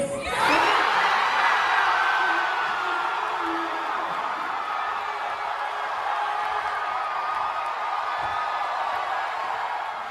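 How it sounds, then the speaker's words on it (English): A large crowd at a Kansas City watch party cheers wildly, a dense, sustained roar of shouts and whoops that swells at the start and then holds steady and loud for the whole stretch. "the crowd went completely bananas when they found out we got it"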